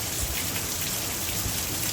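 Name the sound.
heavy rain falling on a corn field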